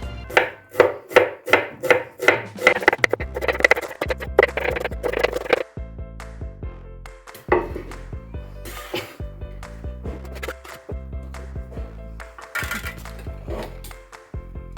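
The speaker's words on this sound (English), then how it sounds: "We're gonna go ahead to cut them into small pieces." A knife chops half a kilo of onions into small pieces on a cutting board for Lebanese kibbeh with yoghurt, giving rapid, close, crisp rhythmic strikes in bursts with brief pauses and scattered board knocks.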